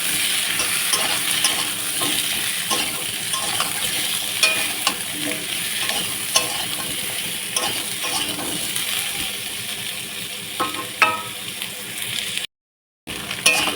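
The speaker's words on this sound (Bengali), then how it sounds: "এখন কিন্তু আমি আলু আর এই যে পেঁপে কাটা ছিল সেইগুলো কিন্তু দিয়ে দিচ্ছি" Potato and papaya pieces frying in hot oil with onion in a pan, a steady close sizzle broken by repeated scraping and clinking as a spatula stirs, with a brief dropout near the end.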